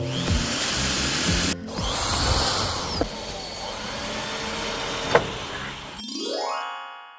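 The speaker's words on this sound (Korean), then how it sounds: "드릴로 구멍을 뚫어놓고 나사를 돌려줬습니다." Power drill boring holes in a steel storage unit and driving screws: a loud continuous whine and grind with brief pauses and sharp metallic clicks, cutting off near the end into a bright ringing tone.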